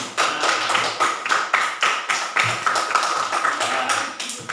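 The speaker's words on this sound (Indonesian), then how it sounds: "Tepuk tangan untuk Mas Adit." Children clap together in a steady, rhythmic pattern of sharp claps, close and fairly loud, keeping an even beat for several seconds in a classroom.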